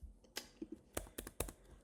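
Someone types a formula on a computer keyboard: about a dozen light, crisp key clicks in an uneven rhythm, quiet and close, with no voices.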